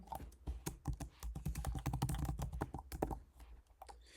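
Quick, irregular taps on an iPhone keyboard while a password is entered, soft and close with short pauses between clusters of clicks.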